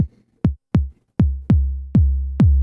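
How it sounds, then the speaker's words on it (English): A deep kick drum synthesized on a Eurorack module hits seven times, each booming tone ringing out long with a sharp click at the start, the later hits sustaining almost to the next. "if you want a kick drum or a noise source that really rings out"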